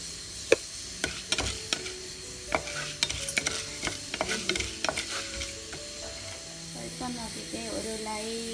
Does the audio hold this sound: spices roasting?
yes